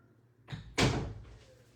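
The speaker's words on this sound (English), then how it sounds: "Kurt, can you close your door?" A door is closed in a room at home, a short push followed by a firm thump that fades out, with no talk over it.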